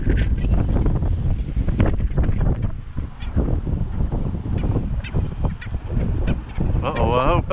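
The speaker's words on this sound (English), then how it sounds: "It's real windy." Gusty wind roars and thumps against the microphone on a causeway to Santa Rosa Island by Navarre Beach, Florida, with someone talking over it and nesting seabirds squawking close by near the end.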